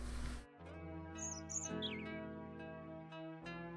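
Bird chirping in the video game Another Beautiful Game: a few quick, bright high chirps and a short trill rise over a steady, sustained musical background, close and clear.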